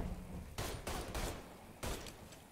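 Gunfire from several shooters in Mafia III: Definitive Edition, four sharp loud bursts of shots at irregular spacing, close and echoing, no talk.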